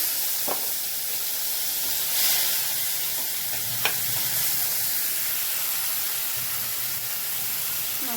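Onion, ginger and garlic paste fries in a pan for doi katla fish curry, giving a continuous soft hiss and sizzle with a few sharp clicks of a spoon, no voices.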